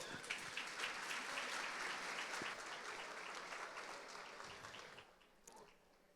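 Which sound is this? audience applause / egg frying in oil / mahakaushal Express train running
audience applause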